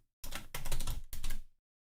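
Someone types a password on a computer keyboard, a dense run of quick clicking keystrokes lasting just over a second with one short pause, close and clear, with no voices.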